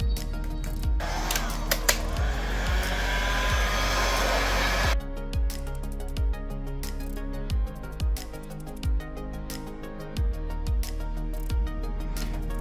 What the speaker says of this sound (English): I'm gonna use heat because I don't wanna damage anything here. So I'm gonna blow heat on this side.